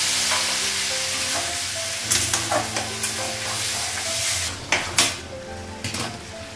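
Tomato with potato and carrot fries in a pan after a little water goes in, producing a loud, continuous sizzle broken by several scraping stirs and clinks of a spoon against the pan, with no voices.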